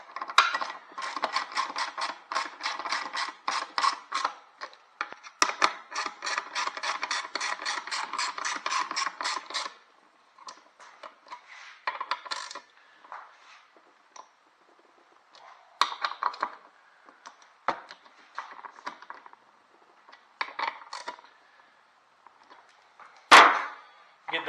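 A T50 Torx tool ratchets bolts tight on a second-row seat of a Honda Odyssey, with rapid bursts of close metallic clicking followed by sparser clicks and clanks and a sharp knock near the end.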